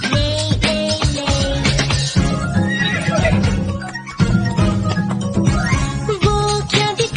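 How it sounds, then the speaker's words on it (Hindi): A horse neighs in a Hindi nursery rhyme, a clear whinny with faint hoof clip-clop set over bouncy children's song music. "मैंने देखा घोड़ा, ले ले ले।"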